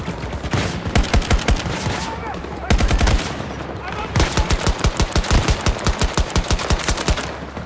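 Gunfire in Battlefield 2042 on a stranded-ship map, loud rapid automatic bursts in quick repeated volleys with short pauses, heavy and close, with game voices underneath.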